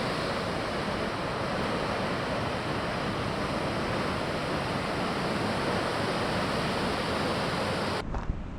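Ocean surf rolls in along the Big Sur coast where surfers are riding waves, a dense, unbroken roar that fills the whole stretch before cutting off near the end.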